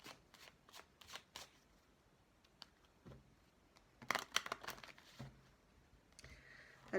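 A deck of tarot cards is shuffled and cut by hand, giving quick, close bursts of riffling and soft slaps separated by short quiet pauses, with no voice.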